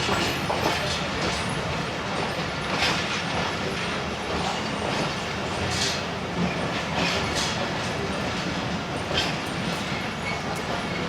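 The Sialkot Express passenger train runs into Wazirabad, its clickety-clack wheels and rumbling carriages loud and continuous from on board, with faint squeals over the steady roar.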